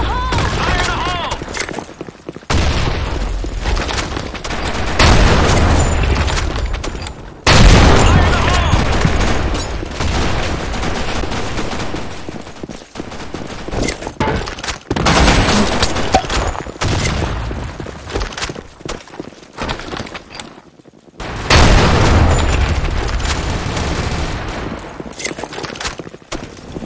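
Rapid bursts of video-game gunfire and booming blasts, including a grenade explosion, erupt in loud waves with brief pauses between them, while voices call out over the combat.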